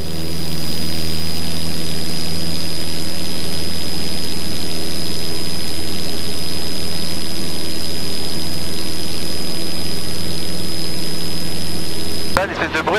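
Small propeller airplane accelerating down the runway for takeoff in low visibility, a loud steady engine drone with strong tonal hum that holds throughout, ending in a brief burst of wind or handling noise.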